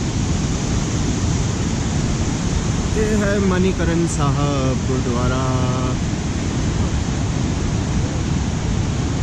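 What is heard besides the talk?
naturally boiling sulphur hot spring water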